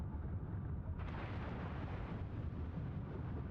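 Battleship main guns fire in the naval warfare game World of Warships, a dense, continuous low boom and rumble of heavy gunfire with a sharper burst about a second in, loud and without talk.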